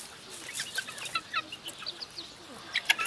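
Young Sebright and game chickens clucking in short, scattered bursts, several birds close by, with faint background hiss.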